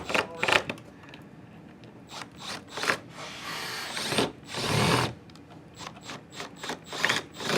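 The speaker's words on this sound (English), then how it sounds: "Oh, the drill gun?" A handheld power drill whirs in repeated short bursts of varying length, close and fairly loud, with quiet gaps between, during work on a DeLorean time machine replica car build.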